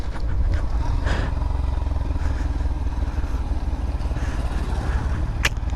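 A new KTM motorcycle rides off-road near a hill fort, its engine droning loud and constant with rattling and scraping over rough ground and a sharp clack near the end.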